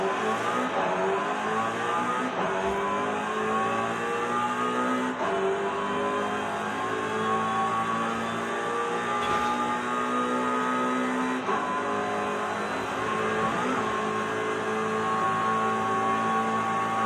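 A BMW X5M engine driving through a speed zone in the video game Forza Horizon 5, a loud, continuous engine drone with rising and falling revs through the gear changes.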